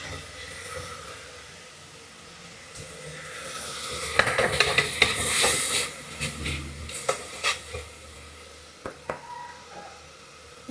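Ingredients sauté in a pan with a pinch of salt while cooking chicken macaroni biriyani, a faint hiss swelling into louder sizzling with scattered scraping and clattering stirs of a utensil against the pan.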